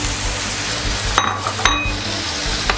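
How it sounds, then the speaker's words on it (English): Squid returned to a seafood paella pan sizzles steadily with tomato puree and paprika, broken by a few sharp utensil clinks and scrapes against the pan. "let's return the squid back to the pan."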